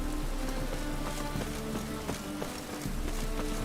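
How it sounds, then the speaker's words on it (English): Rain pours steadily in the Witcher 3: Wild Hunt video game, a constant soft hiss of falling drops under sustained background music tones. "I like rain."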